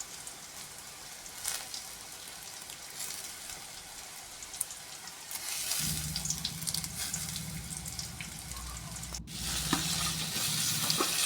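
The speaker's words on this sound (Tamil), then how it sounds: "அதில் இன்னைக்கு கருவேப்பிலை ஆட் பண்ணிக்கிடுவோம்." Curry leaves and softened onions fry in a pan with turmeric, giving a quiet, steady sizzle. Stirring and faint clinks sit over it, and the frying grows fuller about halfway through. No one talks.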